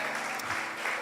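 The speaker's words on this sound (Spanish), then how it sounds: "Dale ese aplauso a Jesús." A church congregation claps together in a brief, full burst of applause, many hands sounding at once through the room.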